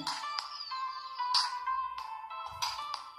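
A short tinny melody plays from a small smartwatch speaker, its bright repeating tones rising and falling in a ringtone-like tune with brief pauses, heard alone without speech.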